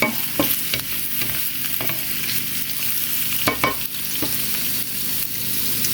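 Vegetables sizzle steadily in a hot frying pan while being stirred for breakfast, with a constant loud frying hiss broken by sharp scraping clicks of the utensil against the pan and no talking.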